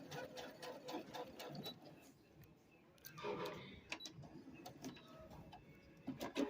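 A Brother CP100X quilting and sewing machine stitches on a desk in quiet, uneven mechanical bursts, faint and close, with brief gaps between runs.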